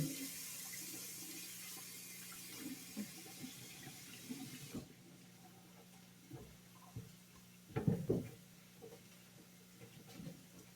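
Tap water runs into a kitchen sink for a quick rinse, a soft hiss that stops partway through, followed by faint clinks and handling sounds.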